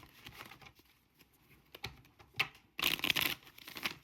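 Tarot cards being shuffled: soft riffling and flicking, then a dense, louder burst of rapid card clatter near the end, close by with no talking.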